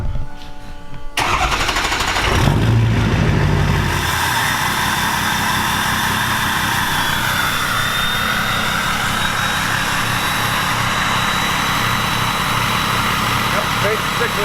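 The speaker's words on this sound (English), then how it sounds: "We're gonna fire up for the first time." A 6-litre truck engine cranks and catches after exhaust work, roaring loudly as it revs, then settles into a steady, rumbling idle that continues for a long stretch.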